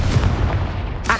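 A Confringo fire spell blast from the video game Hogwarts Legacy: one loud, booming burst that fills the short moment, ending in a brief crackling flare.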